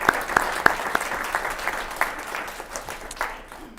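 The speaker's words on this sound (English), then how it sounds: "We can give them a round of applause." Audience at an elementary school youth forum breaks into applause, a few sharp, separate claps at first, then a steadier patter of many hands that gradually thins out.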